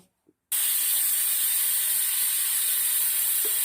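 A pressure cooker of methi muthiya with peas whistling on the stove, a sudden loud steady hiss of escaping steam that starts after a brief quiet moment and holds continuously.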